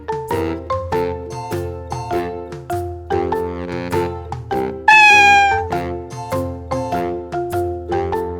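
A cartoonish cat meow rises once near the middle over a bright, repeating musical jingle of steady tonal notes, with no talking.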